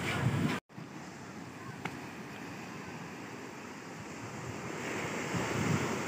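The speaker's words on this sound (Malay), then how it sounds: "korang dengarlah bunyi ombak pantai dia, memang menenangkan" Ocean waves wash steadily onto a beach at Desaru in Kota Tinggi, Johor, a continuous broad surf roar with wind buffeting the microphone.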